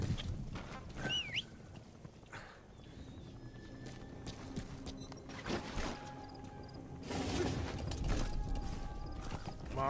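Horse hooves clip-clop unevenly with a whinny and creaking mechanical clatter in the video game Metal Gear Solid V: The Phantom Pain, game-like effects and tones layered around them.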